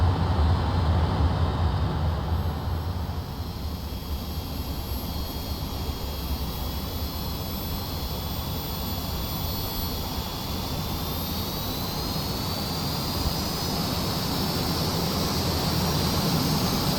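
Jet engines of a Dornier Do 31 VTOL transport in a flight simulator roar steadily after landing, a loud continuous whine and rush with a slowly rising high tone, with no voices heard.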